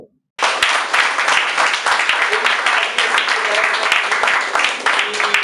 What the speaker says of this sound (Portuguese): Eu queria pedir uma salva de palmas para o Paulo Eduardo Gomes